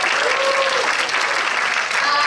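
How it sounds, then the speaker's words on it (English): Sustained round of applause for a photographer at a spring incubation program demo day, a dense, steady wash of clapping from a sizeable crowd, with a voice faintly heard over it. "Let's give him a round of applause"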